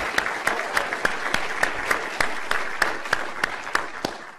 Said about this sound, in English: I'd like you to join me in giving them a round of applause